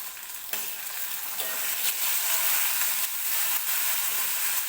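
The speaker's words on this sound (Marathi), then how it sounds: "आता मी कांद्यामध्ये टोमॅटो टाकून घेते" Tomatoes dropped into onions frying in a pressure cooker for a spicy dry mutton dish, a steady loud sizzle with a few sharp stirring scrapes.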